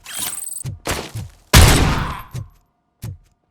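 Gunfire in the RoboCop: Rogue City video game comes as a rapid burst of shots, then a heavy blast and a few scattered single reports, all punchy and close.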